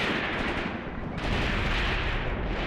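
Troops engage the enemy in the tactical war game Graviteam Tactics: Mius Front, with a dense, continuous roar of gunfire and heavier thuds mixed in at a distance.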